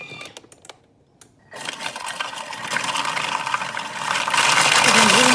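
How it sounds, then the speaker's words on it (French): Thermomix blending dry biscuits at speed 4, with a few clicks and a quiet pause before the motor starts and builds into a loud, steady whirring grind that rises in pitch toward the end, close up. "je vais venir mixer pendant 20 secondes, vitesse 4"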